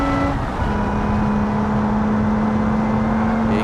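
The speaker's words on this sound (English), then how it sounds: "It's got a supercharger you can hear." Supercharged car engine in BeamNG Drive, a steady droning hum with a persistent whine held throughout at close range, loud and unbroken with no speech over it.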